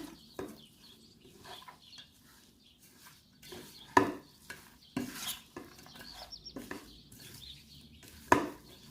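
Apple pie filling mixed with lemon juice in a bowl, soft scraping and stirring strokes with occasional sharper clinks of utensil on dish, close and fairly quiet, no talk.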